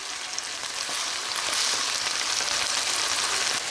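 Prawns sizzle steadily in a hot pan alongside lime noodles, a continuous close, dense frying hiss with no pauses or voices.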